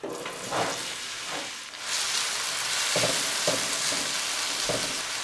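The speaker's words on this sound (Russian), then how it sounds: "Прожариваем лучок со всех сторон." Chopped onion sizzles in hot vegetable oil with a spoon of melted ghee over a high flame, a steady close frying hiss with a few soft stirring scrapes, no voices.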